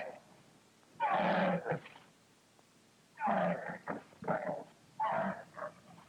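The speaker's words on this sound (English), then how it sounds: "The camel was tied to a post. It was making a pitiful howling sound." A camel tied to a post in a garden howls pitifully, three drawn-out mournful wailing bursts separated by short pauses, fairly close, with no talk.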